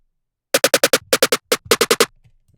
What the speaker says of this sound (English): Then we have a little roll right here.